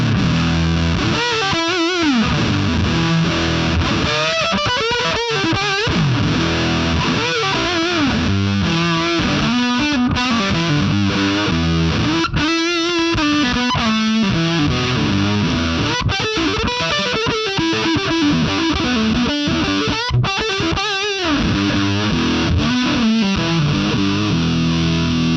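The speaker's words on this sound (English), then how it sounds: "Fuzz, this is going to be like a fuzz face vibe." Guitar run through a Guitar Rig 6 fuzz effect voiced like a Fuzz Face, its thick, saturated tone sustaining continuously with wavering bent notes and steady loudness throughout, heard alone with no talking.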